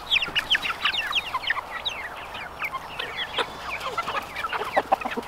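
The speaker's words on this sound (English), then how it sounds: "see how the meat birds did last night" A flock of meat chickens clucks and chatters continuously, with many overlapping short calls at moderate volume and no talking.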